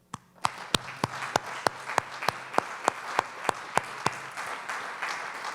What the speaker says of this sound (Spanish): a quien yo pido otro aplauso